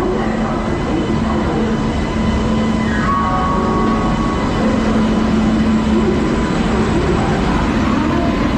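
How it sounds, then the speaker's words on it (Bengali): The Shatabdi Express sits at a railway station with a loud, continuous low rumble, while a drawn-out tonal whine rises and falls in the middle of the clip. "শতাব্দী এক্সপ্রেসের যে ট্রেনটা আসে এনজেপি থেকে সেটাই আবার ফিরে যায়"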